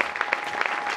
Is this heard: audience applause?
yes